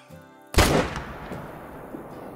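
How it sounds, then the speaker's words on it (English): A single loud rifle shot in the hunting game Call of the Wild, a sharp crack followed by a long rolling echo that fades out across open terrain. "Another good shot into that one."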